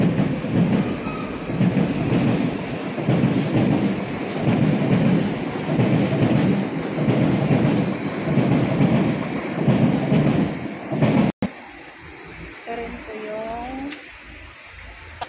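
A train bound for Lo Wu, Hong Kong, rumbles past nearby with a loud, steady low roar and rattling for about eleven seconds, then cuts to quieter ambience with faint voices.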